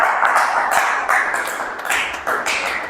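A church congregation breaks into applause in praise, a dense, steady crackle of many hands clapping together for about three seconds with a few sharper bursts.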